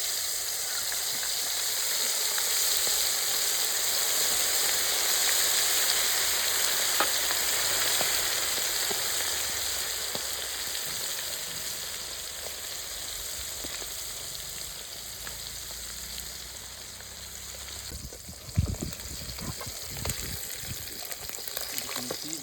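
Quail sizzling and frying in a pan over an outdoor village cooking fire, a steady broadband crackle of hot oil running throughout with a few louder pops near the end.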